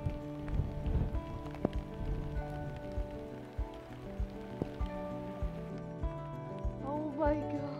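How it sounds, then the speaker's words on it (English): Hail falls during a thunderstorm on a mesa ridge, making a dense, irregular patter of close impacts that runs throughout, with voices talking over it. "Oh my gosh, it's hailing."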